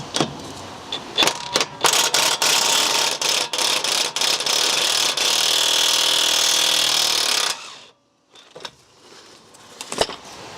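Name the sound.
removing 18mm bolt from BMW E46 rear shock absorber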